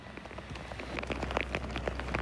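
Rain falls steadily on an exposed construction site, a dense patter of drops striking surfaces with close individual splats scattered through the wash, continuous and alone without voices.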